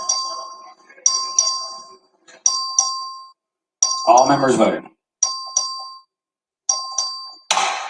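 A voting bell rings repeatedly in the Texas House chamber during a record vote, each ding-dong chime ringing out and decaying, with a brief spoken announcement from a man in the middle.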